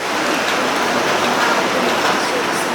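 Dense, steady rushing noise of heavy monsoon rain pouring down in Baguio City, loud and unbroken throughout.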